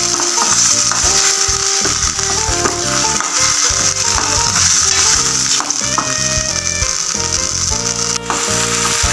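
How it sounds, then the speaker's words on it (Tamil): Ginger garlic paste frying loudly in a pan, a dense steady sizzle with continuous stirring and scraping rattles from a spoon, close and unbroken throughout. "இப்போ நல்லா கிண்டிக்கிடுவோம் இஞ்சி பூண்டு பச்சை வாடை போகிற வரைக்கும் கிண்டணும்"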